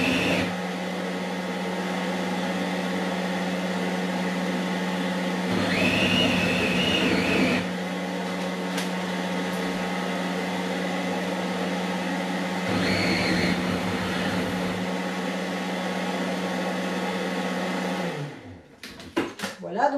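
i-Cook'in kitchen robot kneading bread dough, a steady loud motor hum running continuously with two brief rising whirring surges, ending as the machine winds down.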